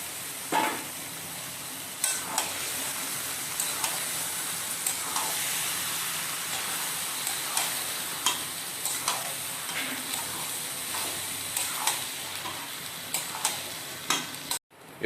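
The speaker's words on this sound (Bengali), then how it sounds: "এই দেখুন, আমরা মিশিয়ে নিচ্ছি তরকা ডালটাকে।" Tarka dal being stirred in a pan with a spoon, steady scraping strokes repeating every second or so over a continuous soft sizzle, close and moderately loud with no talking.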